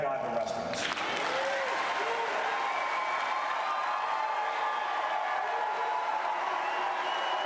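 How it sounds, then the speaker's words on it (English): Sustained loud applause from a large political summit crowd, steady and continuous throughout, with a few cheers mixed in. "So they literally wouldn't stop applauding."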